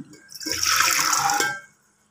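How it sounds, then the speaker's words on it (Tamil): Soaking water poured from a vessel into a pot holding peanuts in a home kitchen, a single steady splashing pour lasting about a second before it stops, close and clear. "இது கழுவி ஊற வச்ச தண்ணி தான் நல்ல தண்ணி தான் அதோடய போட்டுறேன்"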